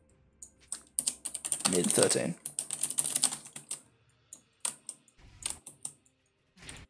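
Rapid, close computer keyboard typing during a League of Legends match, with bursts of clicking keystrokes and short pauses, and a brief spoken word in between.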